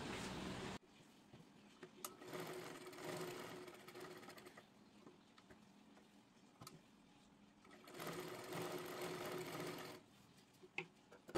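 Sewing machine stitching along a kurti neckline, running in two long steady bursts of close, continuous mechanical whirring with a quieter pause between them and no talk.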